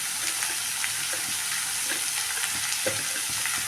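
Turmeric sizzling in oil in a pan for a snake gourd gravy, a steady bright hiss with light scraping taps as it is stirred, close and continuous without talk.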